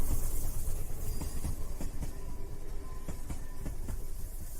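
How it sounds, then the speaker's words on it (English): A train rolls past at steady volume, its broad rumble and rushing noise punctuated by repeated clickety-clack wheel impacts on the rail joints throughout, with no talk over it. "There it is. Train on fire."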